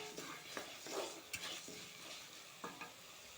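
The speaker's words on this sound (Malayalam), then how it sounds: "അപ്പോൾ മുതിര നമുക്ക് വറുത്തെടുക്കാം" Horse gram dry-roasts in a pan as a spatula stirs it. Soft scraping and rattling strokes ride over a faint, steady sizzle, with a few sharper knocks against the pan.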